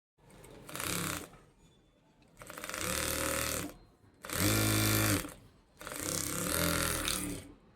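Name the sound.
sewing machine stitching salwar bottom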